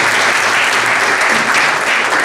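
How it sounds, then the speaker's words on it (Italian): An audience at the final evening of a local show applauds the lighting technician, a dense, loud, steady wash of clapping throughout. "un applauso anche per lui."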